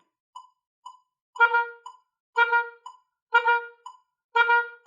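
An oboe plays a repeated note with short tongued sixteenth-note groups, alternating single taps and quick pairs in a steady pulse, clear and close with silence between the groups.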